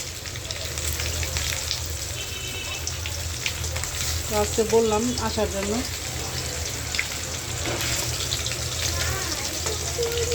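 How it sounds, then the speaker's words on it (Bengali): Fish fry in a pan with a steady, close sizzle that carries on throughout, while someone talks over it. "তো মাছগুলো হালকা ভাজা হয়ে গেছে"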